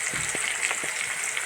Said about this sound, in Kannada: ಈರುಳ್ಳಿ, ಒಣಮೆಣಸಿನ್ಕಾಯಿ, ಕರಿಬೇವು, ಸಾಸಿವೆ, ಜೀರಿಗೆ ಎಲ್ಲ ಎಣ್ಣೆಯಲ್ಲಿ ಫ್ರೈ ಮಾಡ್ತಾಯಿದ್ದೀನಿ